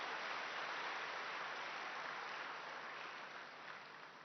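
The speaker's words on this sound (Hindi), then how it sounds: "तालियां तो बजाओ जरा" An audience at a Hindi spiritual talk claps together in a dense, even wash of applause that holds steady and then slowly fades toward the end.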